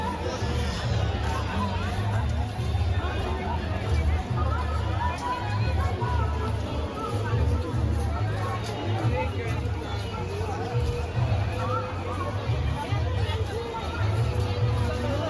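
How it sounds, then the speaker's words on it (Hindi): A dense crowd of bathers fills the Ganga ghat at Haridwar with steady, continuous babble and overlapping voices, with a low rumble underneath and no single sound standing out. "देखिए यहाँ चारों तरफ कितनी भीड़ है।"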